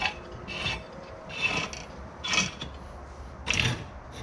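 Harbor Freight bending brake clamping and bending 16 gauge sheet metal, with four separate rasping metallic scrapes spaced about a second apart, moderately close with no talk.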